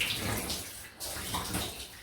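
A safety razor is rinsed under a running tap after a head shave with mug soap, a steady, close rush of flowing water splashing for a couple of seconds, with no talk.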